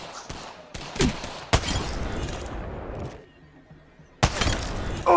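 Gunfire in the Apex Legends video game, a few sharp loud bursts of shots separated by brief quieter gaps, with a final burst near the end.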